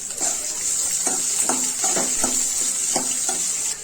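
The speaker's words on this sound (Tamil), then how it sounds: "நல்லா வதக்கிக்கோங்க." Onions frying steadily in a pan for garlic tamarind chutney, a bright continuous sizzle with a few soft scraping stirs at irregular moments, no talking.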